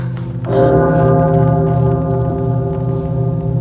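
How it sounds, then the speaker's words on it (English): A deep bell tolls once in a stage performance of Macbeth, striking loud and close with a long, sustained ringing hum that lingers for several seconds, alone without voices. "The bell invites me."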